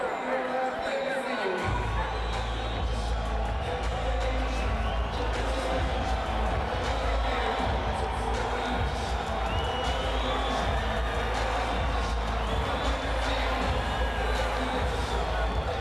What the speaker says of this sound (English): They don't know whether to cheer or boo, it seems.